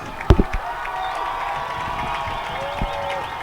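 Stadium crowd at a Friday night high school football game between the Canyon Lake Hawks and Marble Falls Mustangs, a continuous distant roar of cheering voices with a few sharp knocks near the start.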